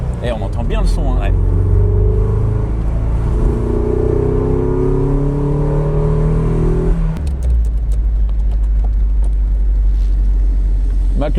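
Low, steady engine drone from a 1991 Toyota MR2 while driving, with rising and falling tones as it accelerates, then settling into a deeper hum, under people talking in the car.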